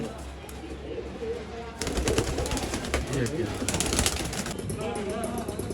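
Pigeons in a Bangalore breeding loft, including a Poori male and a Chini female offered for sale, coo and flutter close by in a steady wash of bird noise that grows busier partway through.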